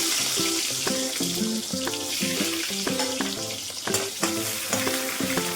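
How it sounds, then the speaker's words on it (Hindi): Chopped onion frying in hot oil in a pan, a steady close hiss of sizzling that runs the whole time under a prominent melodic music track, with occasional stirring clatter. "यहाँ पे तेल अच्छे से गर्म हो गया, तो जो प्याज काट के रखी थी उसको डाल दे रहे हैं।"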